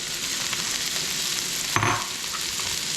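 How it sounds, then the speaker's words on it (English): Celery tossed into a hot skillet already frying eggplant, chickpeas, olives and parsley, giving a steady close sizzle with a brief louder burst of crackle as the pieces land, no voices. "We're going to throw our celery in."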